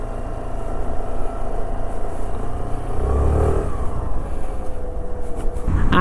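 A Suzuki Avenis 124cc scooter being ridden gives a steady low engine hum with wind rumble and a slight rise in pitch as it speeds up, loud and close throughout.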